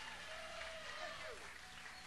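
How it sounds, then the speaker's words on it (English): Audience at a live blues concert applauds in a steady, dense wash of clapping that lasts the whole moment, moderately distant and fairly faint, with some crowd noise mixed in. "Give him a nice round of applause."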